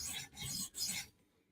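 A knife blade drawn across a freshly flattened CBN sharpening stone, three quick, close rasping strokes followed by near silence.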